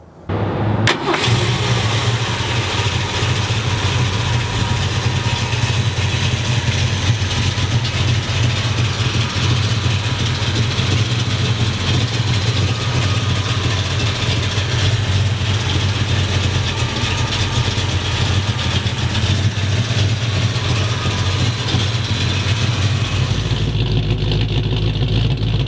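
A 1967 Ford Mustang Fastback GT500 tribute turns over and fires up, then settles into a loud, steady, rumbling idle that holds for over twenty seconds before briefly changing near the end.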